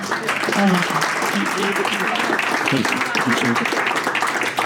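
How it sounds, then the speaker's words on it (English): Audience applause at a health-equity charity watch party honoring event sponsors, a dense, steady wash of clapping through the whole stretch with some voices and crowd chatter mixed underneath. "let's just give them a round of applause and thank them"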